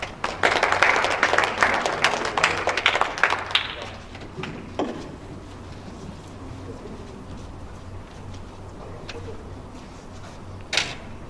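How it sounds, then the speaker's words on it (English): An audience at a program launch event claps loudly and densely for a few seconds, then thins out into scattered, fading claps over quiet room noise, with faint voices underneath. "let's give a big round of applause to Roshan"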